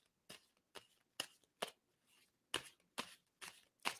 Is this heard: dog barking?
no